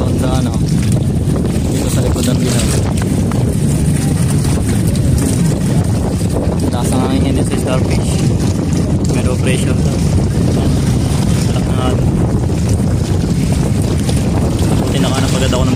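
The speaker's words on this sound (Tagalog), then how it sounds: "Ang lakas ngayon ng hangin" Strong wind buffets the microphone on a Starfish Island beach at Little Boracay, a loud, constant low rumble with gusty surges, mixed with boat and water sounds and bits of talk.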